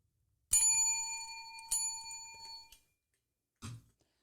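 A small bell struck by accident on a podcast desk rings out with a bright, sustained ding, followed by a second lighter strike and a brief rattle, then a soft knock after a pause.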